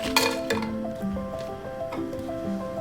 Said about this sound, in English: Put a pan over medium heat, add oil and your rice pilaf mix